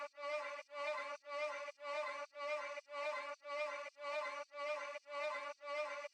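Synth sound run through a Kashmir vocal energy booster preset with lows cut, sidechain pumping and micro shift widening. It pulses in ten even bursts of about half a second, each ducking between hits, buzzy and bright, with no voices.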